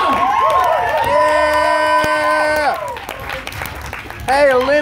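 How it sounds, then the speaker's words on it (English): Applause, cheering and whoops from the audience at a team poetry slam final at an arts festival, loud and sustained, with a person shouting enthusiastically over the crowd noise. "let's keep that applause going as we welcome Olympia up to the microphone"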